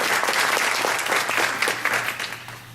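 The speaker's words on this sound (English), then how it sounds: "If you'll give her a round of applause, we're very happy she's here." An audience at a Girl Scouts of Southwest Texas event applauds a visiting Army major general, a dense, steady wash of clapping that slowly fades toward the end.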